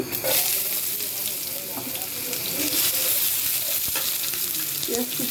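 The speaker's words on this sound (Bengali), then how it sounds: "প্রথমে আমি তেল দিয়ে নিয়েছি, এখন দিব পেঁয়াজ কুচি" Chopped onion sizzles in hot oil for a spinach and taki fish dish, a steady hiss up close with intermittent spatters and stirring clatter.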